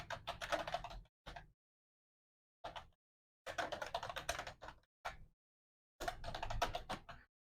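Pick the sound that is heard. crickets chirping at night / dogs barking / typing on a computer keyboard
typing on a computer keyboard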